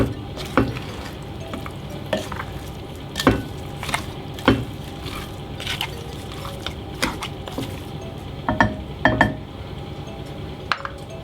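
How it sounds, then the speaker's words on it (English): Brown sugar stirred into a pot of lamb stew, a spoon repeatedly scraping and knocking against the pot in irregular clinks over a soft continuous sizzle, close and fairly loud, with no talking. "I'm going to give that a quick stir in as well"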